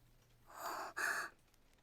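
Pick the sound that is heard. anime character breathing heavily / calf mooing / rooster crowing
anime character breathing heavily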